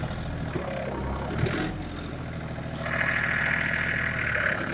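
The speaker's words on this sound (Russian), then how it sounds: "Сейчас работаем отвалом." A Hinomoto 239 tractor pushing with its swivel front blade, the engine running in a steady low drone throughout, louder and rougher in its second half with a sustained strained whine.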